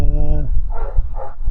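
A police dog in a dog van gives a couple of short, muffled barks at mid distance over steady vehicle or room rumble, following a brief tonal hum at the start.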